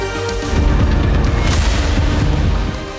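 Missile strike explosion on a command center in northwestern Iran, a loud, deep rumbling boom that swells and rolls on for a few seconds before fading slightly.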